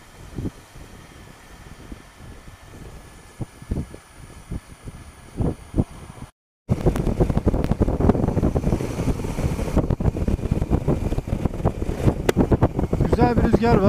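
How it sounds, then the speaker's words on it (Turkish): Gusty wind near Karataş, Adana, on the coast buffets the microphone, faint and intermittent at first, then a loud, continuous rush of wind and water after a brief gap. "Güzel bir rüzgar var."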